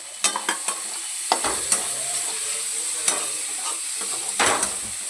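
Tomato and coriander sizzle steadily in a pan under a constant hiss, with several sharp spatula scrapes and taps from stirring.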